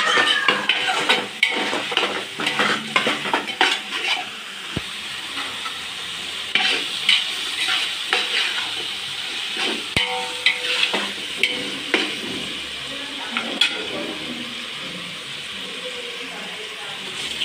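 Chicken pieces fry in oil with masala for a Tamil chicken kulambu, giving a steady moderate sizzle broken by frequent spatula clacks and scraping stirs against the pan.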